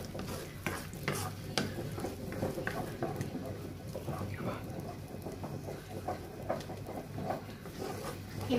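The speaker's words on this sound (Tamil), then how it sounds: "இந்த மாதிரி நீங்க கிண்டிக்கிட்டே இருந்தீங்கன்னா அந்த முட்டை பொரியல் வந்து உதிரி உதிரியா வரும்" Scrambled egg fry being stirred in a pan, with a steady sizzle and repeated scraping strokes of the spoon at close range, while someone talks over it.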